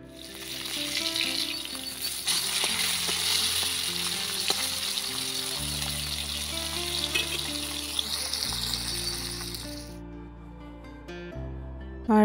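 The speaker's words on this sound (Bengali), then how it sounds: "আর এতে আমার মাছ ভাজাটাও হয়ে গিয়েছে, ভালোভাবে মুচমুচে করে ভেজে নিয়েছি।" Small fish coated in chili, turmeric and cumin powder fry crisp in oil in a wok over a clay stove, a continuous loud sizzle under steady background music that cuts out near the end.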